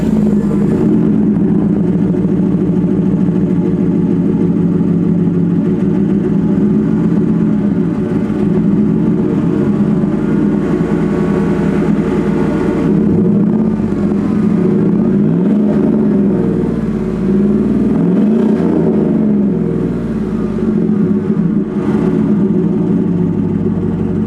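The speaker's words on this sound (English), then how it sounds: "I'm going to start it up right now, and I'm going to let you hear this exhaust." A 2014 Chevrolet Silverado pickup truck engine idles with a deep, loud exhaust rumble, then revs up and down a few times in close, continuous throbbing bursts.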